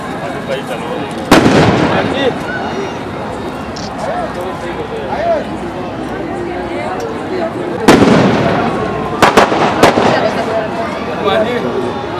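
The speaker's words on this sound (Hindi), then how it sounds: "आतिशबाजी के शोर कर रहे" Fireworks burst with sharp, loud bangs at a Gangaur festival in Lakheri, a few spaced explosions and a quick cluster of pops, over a busy crowd with voices talking throughout.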